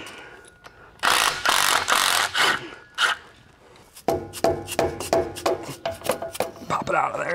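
A ratchet with an 8mm socket works loose the U-strap bolts on a vehicle drive shaft, giving rapid clicking pawl strokes in short runs, close and crisp. Some handling noise is mixed in.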